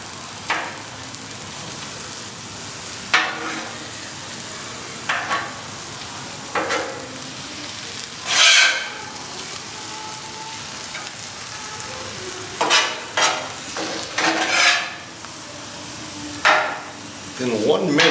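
Philly beef, onions and cheese sizzle loudly on a grill as they are tossed, a steady frying hiss broken by sharp scraping clatters of the spatula, close and without speech.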